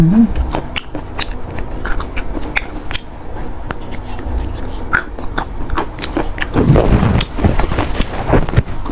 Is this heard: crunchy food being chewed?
yes